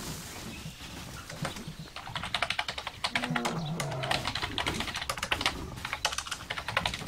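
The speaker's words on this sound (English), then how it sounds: "I was typing in guild chat" Rapid clicking of keys on a computer keyboard, irregular bursts of typing that grow busier after the first couple of seconds, close and clear over a faint background hum.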